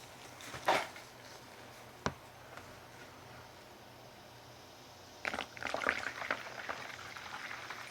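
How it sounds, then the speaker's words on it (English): Solvent paint stripper is poured into a bucket, a faint splash and gurgle at first, then a sharp knock, and later a louder burst of sloshing, bubbling liquid close by in a quiet room. "I still need some more solvent to go in there, so we'll add a little more."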